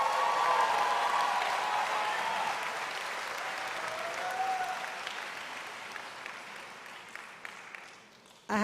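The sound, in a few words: graduates' applause at commencement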